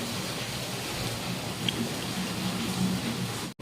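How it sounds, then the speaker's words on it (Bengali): Heavy downpour falls outside a home in steady, even hissing and pattering that carries on throughout without a break, with a brief knock near the end and no talk. "চলুন আপনাদের কাছে দেখাচ্ছি কেমন বৃষ্টি হচ্ছে"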